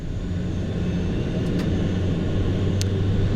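Inside the cockpit of an Airbus A400M before takeoff, a steady, loud engine drone fills the whole stretch, with a couple of brief clicks near the middle and end. No talk is heard.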